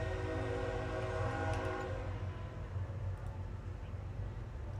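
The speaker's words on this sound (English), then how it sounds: "Oh, there's the train! Guys, right on time." A video game train passes with a sustained multi-tone horn blast fading after a couple of seconds, then a continuous low rumble of the rolling cars carrying on alone.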